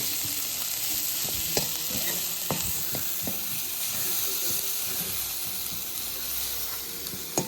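Bharangi, a wild monsoon forest vegetable from Konkan, is stirred in a sizzling pan, a spoon scraping and tapping irregularly against the metal over a constant hiss of frying.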